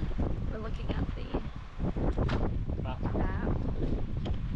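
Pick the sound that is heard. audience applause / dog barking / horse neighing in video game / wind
wind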